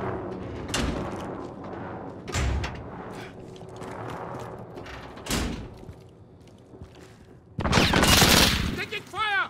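Gunfire in Call of Duty: Modern Warfare erupts in sharp, separated bursts of shots, some near and loud, others more distant, with a heavy sustained volley near the end over a low background rumble.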